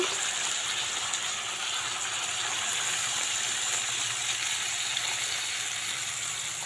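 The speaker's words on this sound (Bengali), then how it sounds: "এবার এখানে একটু জল দিয়ে দেবো জল ঢেলে দিলাম" Water poured into a pan of fish and cauliflower curry, a steady hissing gush and sizzle held close and even throughout, with no talk.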